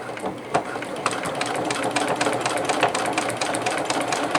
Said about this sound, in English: Okay, I get to the edge here. I'm going to back stitch.